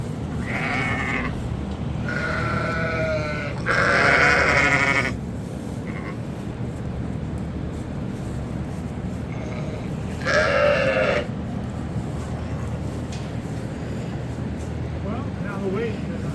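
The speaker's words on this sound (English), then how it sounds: "Sometimes the other ewes running around being scared will make the mom even more nervous." Ewes bleating on a sheep farm during lambing, with several loud calls close by in two bursts separated by quieter stretches, a person talking at times between them.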